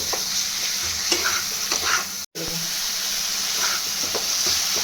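Chopped tomato and spices sauté in a pan over lowered gas while being stirred, a steady close sizzle with scraping strokes and one brief dropout partway through.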